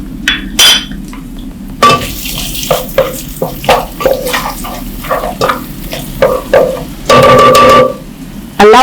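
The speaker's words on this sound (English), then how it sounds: "Allow that to wilt down and fry." Onions frying in oil for Nigerian jollof sauce, a steady close sizzle broken by repeated stirring scrapes and a few clinks of a utensil against the pan, with a louder burst near the end.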